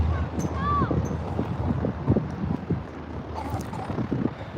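Wind gusting across an airfield runway, rough buffeting rumble against the microphone with a few faint higher sounds, fairly loud and steady throughout.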